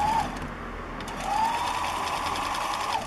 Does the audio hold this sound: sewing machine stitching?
yes